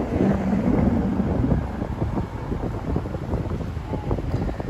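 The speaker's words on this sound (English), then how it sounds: "Man, it is windy." Strong, steady wind buffeting a microphone outdoors in downtown Miami, a continuous low roar with gusty fluctuations throughout and no other clear sounds.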